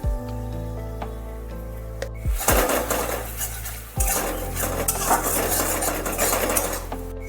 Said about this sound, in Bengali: গ্যাসের ফ্লেম লো করে মশলা আমি একটু কষিয়ে নিচ্ছি।